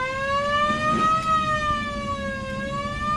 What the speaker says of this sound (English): can we hear the siren?